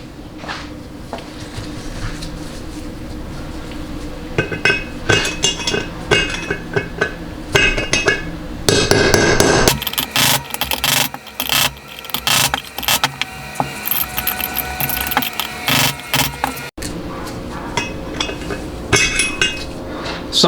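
Metal tools scrape, clink and knock against a stubborn bushing inside a 200-4R automatic transmission, giving close, irregular metallic rattles and taps with a brief burst of louder grinding partway through.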